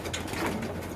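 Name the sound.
pigeons cooing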